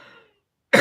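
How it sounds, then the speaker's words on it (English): A single sharp cough bursts out loud and close at the end, after a stretch of fading murmur and near silence. "Sorry, just keep coughing."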